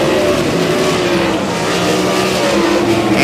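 POWRi WAR sprint cars racing a heat at Humboldt Speedway, a loud continuous engine roar from several cars on the dirt oval, steady and dense throughout.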